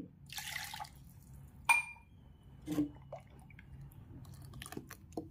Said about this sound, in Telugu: దీంట్లోకి కొద్దిగా వాటర్ వేసుకుంటే సరిపోతుంది